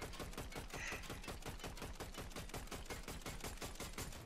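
Rapid, evenly spaced automatic gunfire from a Fortnite firearm strikes a tree, a steady rattling stream of about sixteen shots in four seconds that holds at constant loudness throughout.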